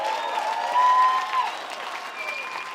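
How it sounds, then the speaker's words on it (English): A fight crowd applauds steadily after a martial arts main event bout for a vacant super lightweight title, dense clapping with a sustained whistle-like tone riding on top. "how about a big round of applause for these two guys?"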